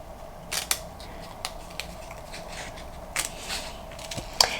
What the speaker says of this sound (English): So now I'm just going to cut around the balloons at the top.